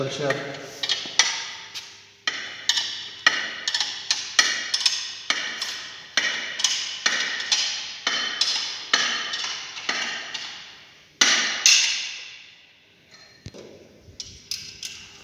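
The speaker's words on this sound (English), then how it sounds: "So the nut is removed here." Metal tool strikes and ratcheting clicks while a nut comes off a single plate clutch during dismantling, a steady run of sharp, close ticks in quick rhythm with a short pause, then a few more.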